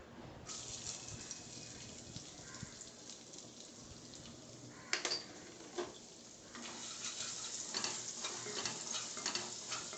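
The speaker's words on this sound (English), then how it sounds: "I'll saute it well." Garlic cloves, peppercorns and black pepper sauté in a pan over almost full flame for dal makhani, giving a constant moderate sizzle broken by a few utensil knocks and scrapes.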